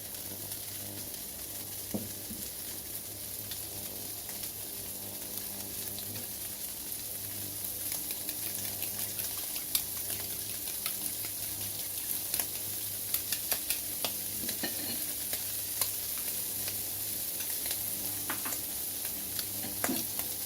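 Egg frying in a pan for shrimp fried rice, a steady close sizzle running throughout with occasional light scrapes and taps of a utensil stirring, growing slightly busier toward the end.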